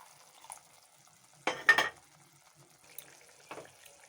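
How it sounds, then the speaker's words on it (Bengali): A small splash of water goes into a pan of simmering fish curry, giving a short hissing, bubbling burst in a quiet kitchen, with fainter sizzles before and after. "এখন দিয়ে দেবো সামান্য পরিমাণে জল।"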